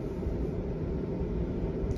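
A steady, continuous whir of a furnace fan stuck on, broadband and unchanging, droning on without pause.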